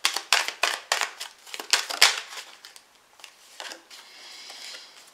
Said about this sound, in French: je vous prends une carte par rapport à ça